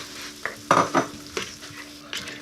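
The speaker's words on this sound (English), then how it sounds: "Stir them into the mix." Beans and canned chopped tomatoes being stirred into a Tuscan bean soup in a pot, giving a few soft, wet scraping and sloshing strokes with a faint sizzle, close and unaccompanied by talk.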